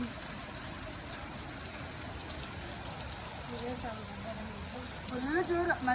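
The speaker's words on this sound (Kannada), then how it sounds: "ಫುಲ್ ಜೋರು ಮಳೆ" Heavy rain pours in a steady, dense hiss close by, unbroken throughout, with a voice speaking briefly near the end.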